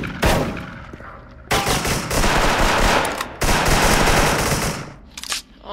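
Rapid automatic gunfire from a first-person shooter game crackles loud and dense in long sustained bursts, with brief gaps between strings of shots.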